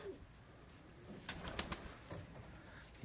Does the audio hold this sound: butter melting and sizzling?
no